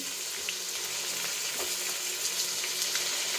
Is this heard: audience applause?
no